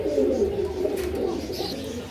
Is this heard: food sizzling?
no